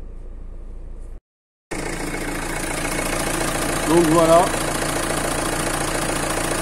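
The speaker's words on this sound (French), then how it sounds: "pas de bruit bizarre, le moteur tourne rond" Renault Scenic 3 engine after injector seal replacement, idling steadily and close by with an even hum after a brief cut, while someone speaks briefly over it.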